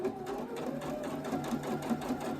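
A domestic sewing machine stitches a straight line at medium speed, giving a steady, even mechanical whir with a regular rapid needle rhythm, close by and alone, no speech.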